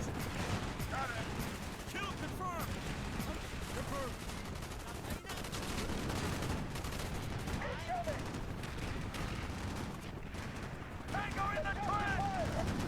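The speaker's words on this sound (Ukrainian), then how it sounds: "класний кулемет" A machine gun in the game Call of Duty: Black Ops fires in a continuous, dense roar of gunfire with explosions mixed in. Distant shouting voices occasionally cut through the steady barrage.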